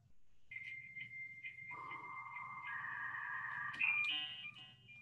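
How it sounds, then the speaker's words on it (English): Dial-up internet modem placing a call over a phone line, a steady dial tone and beeping tones followed by rising, warbling handshake squeals, moderately quiet and without talk. "To connect using dial-up, your computer makes a call on your phone line to connect you to your internet service provider."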